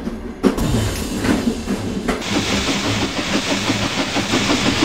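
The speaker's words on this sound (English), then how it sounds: "The engine has problems with his brakes, and now we're on runaway" Runaway train rolling on its rails, a loud steady rumble with repeating rhythmic clatter and a hiss that rises about two seconds in, no voices.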